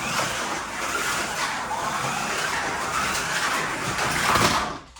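A yellow Corvette slot car with Paul Gage tires speeds around a track, making a continuous whirring, rushing hum that rises slightly before cutting off abruptly at the end.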